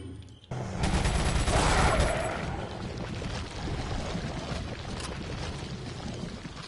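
A loud shotgun blast in Resident Evil 4, a heavy booming report with a long rumbling tail fading over several seconds.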